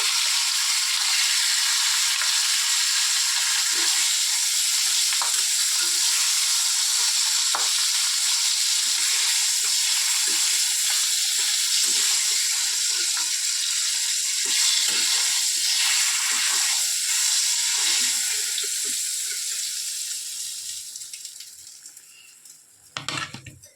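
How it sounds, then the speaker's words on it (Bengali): Fish frying in oil crackles and sizzles continuously and loudly for a long stretch, with small spatters throughout, fading down toward the end. "মাছগুলোকে খুব ভাজা হতে হবে মাছগুলো উল্টে দিচ্ছি"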